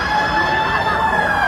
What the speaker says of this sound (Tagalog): Meron na hong dumating na naman na fire truck.